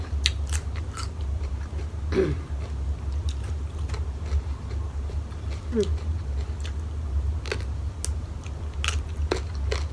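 Fresh raw vegetables are bitten and chewed with crisp crunches at irregular intervals, close up, over a low steady background hum.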